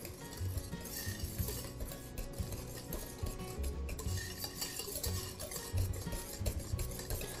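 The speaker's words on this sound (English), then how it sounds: "And I'm just stirring this." A spoon stirring pumpkin pie filling in a bowl gives soft, repeated scraping and light clinks in an irregular rhythm, close by and fairly quiet, with no one speaking.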